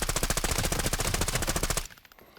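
Rapid automatic gunfire in Arena Breakout Infinite firing AP63 ammo, a fast even burst of shots lasting under two seconds before cutting off, loud and close.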